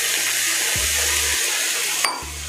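Water poured into a pan of paneer chilli sizzling on the stove, a steady hiss of frying and liquid with a sharp splash near the end.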